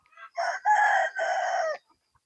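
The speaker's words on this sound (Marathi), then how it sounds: "एकदम मोठे मोठे तगडा कोंबडे आहेत बघा मित्रांनो" A single loud rooster crow, close by, in three drawn-out connected segments lasting about a second and a half, then silence.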